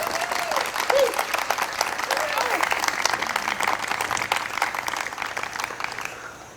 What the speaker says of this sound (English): So can you just give a round of applause to Jack Ames?